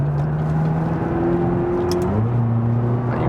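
A McLaren 570 GT accelerates hard on the Autobahn, its engine note climbing steadily, then dropping briefly at a gear shift before rising again, loud and continuous with strong road and wind roar.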